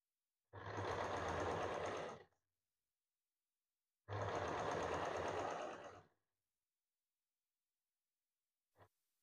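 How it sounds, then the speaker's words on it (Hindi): A sewing machine stitches seams on a princess-cut blouse in two steady bursts of about two seconds each, separated by silence, followed by a faint short tap near the end. "तो मशीन से मैं यहाँ पे सिलाई लगा लूंगी"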